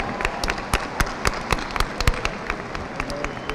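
Scattered hand claps at a 2023 Martin High School graduation ceremony ring out in a loose, fairly regular rhythm. The sparse clapping sounds like a small number of people, with no talking.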